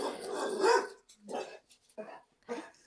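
A pet dog barks indoors during a hairstylists' podcast recording, a few loud bursts over roughly three seconds, mixed with people talking nearby.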